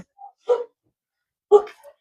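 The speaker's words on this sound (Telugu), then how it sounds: "కుక్క అరుస్తుంది" A dog gives two short, sharp barks about a second apart, close by, with near silence between them.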